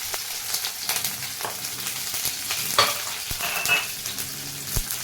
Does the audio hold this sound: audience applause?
no